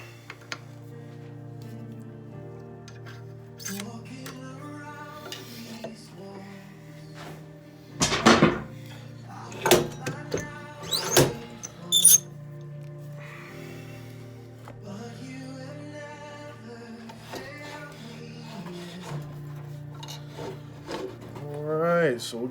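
Bushings slid onto a pen-turning mandrel at a lathe, giving sparse metallic clicks, scrapes and a few sharper clatters near and quiet over a low background hum, with a person talking in between.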